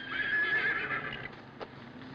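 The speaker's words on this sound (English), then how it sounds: "Why, that's Wildcat, the toughest piece of bronco I ever roped." A bronco gives a loud, close neigh, its shrill whinny wavering and then fading out, with a faint hoof knock afterward.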